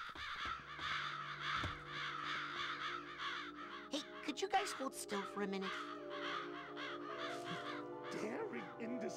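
Crows cawing in the Psychonauts video game, a busy run of repeated loud caws from several birds close by, with a person talking over part of it.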